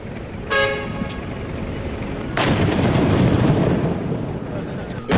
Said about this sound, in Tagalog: Saka pinasabog ang kahon.